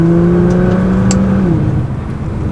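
A Nissan GT-R engine with two catalytic converters and the muffler deleted, using fiberglass-packed resonators, idles with a loud, steady, throaty rumble, its pitch easing down slightly partway through, close and alone.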